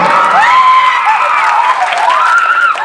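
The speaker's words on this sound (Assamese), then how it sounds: "যদি ভাল পাইছে এটা হাত চাপৰিটো" An audience claps steadily throughout a cultural program in Golaghat, a dense continuous patter of many hands with excited cheering and shouting voices rising and falling over it.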